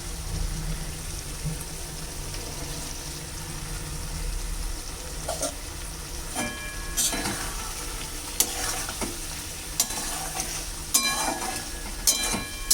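Fried potatoes and paneer stirred together in a hot pan, a continuous close sizzle with occasional sharper scrapes and knocks of the spatula growing more frequent toward the end.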